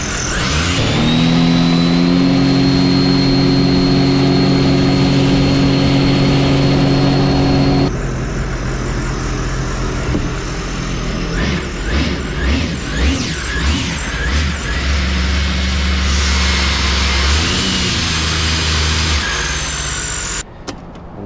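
Sea-Doo jet ski engine, a RXP-X 325 build assembled from used parts, cruising on the water: a loud, steady engine drone that shifts pitch and load partway through, with splashing and wind noise, no talking.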